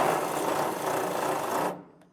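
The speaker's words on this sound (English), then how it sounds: "take your 5/16 drill bit and you can finish off these holes" A power drill with a 5/16 bit bores holes through an aluminum fender on a Jeep JK Wrangler, giving a steady close whirring grind that runs for nearly two seconds and then stops abruptly.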